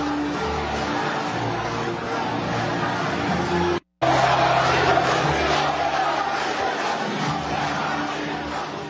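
Political crowd at a Dominican party event breaking into a loud, sustained ovation for David Collado, dense cheering and shouting throughout with a brief cut partway.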